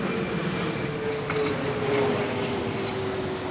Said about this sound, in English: Can you hear the planes landing?